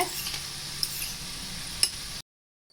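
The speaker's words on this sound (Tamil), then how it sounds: "இப்போ நம்ம செஞ்சு வச்சுருக்கிற இது எல்லாத்தையும் இதில் போட்டு ஃப்ரை பண்ணி எடுத்துக்கலாம்" Wheat flour snacks frying in hot oil give a continuous close sizzle with a couple of sharp clicks from stirring, then the sound cuts off abruptly into silence.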